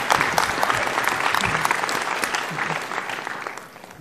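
An audience at a 2015 Game Developers Conference VR session applauds Brad Herman of DreamWorks' VR lab, a dense, steady burst of clapping that stays loud before easing slightly at the end.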